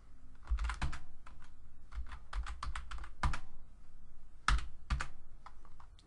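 Rapid bursts of keystrokes on a computer keyboard while configuring network files in CentOS 6.6, clicking in uneven clusters with short pauses and heavier key strikes such as enter standing out, close and clear with no talking.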